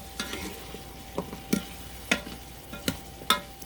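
Onions, carrots and celery sautéing in butter for mulligatawny soup, with a soft steady background sizzle broken by several sharp, close spoon-on-pot stirring knocks at irregular intervals; no talking.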